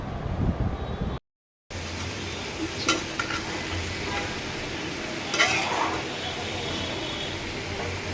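Vegetable curry of potato, tomato and peanuts cooking on a stove, a steady sizzle with occasional stirring scrapes and clinks, close and continuous, with a brief dropout early on.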